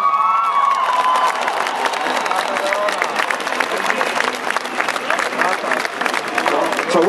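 A concert crowd claps and cheers for a performer at a big guitar event in Wrocław, a dense, loud roar of applause with whoops and shouts continuing throughout, while a voice speaks over it.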